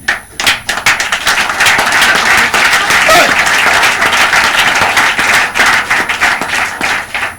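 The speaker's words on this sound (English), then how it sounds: "He go stand up, make we clap for him." A radio programme's studio audience claps loudly and steadily for several seconds, the applause swelling then breaking into scattered claps near the end.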